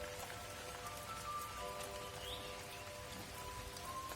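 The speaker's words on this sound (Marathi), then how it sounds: "पाऊस अजून सुरू आहे." Rain falls steadily in the early morning, a faint, even patter on surfaces heard from indoors, with no voices.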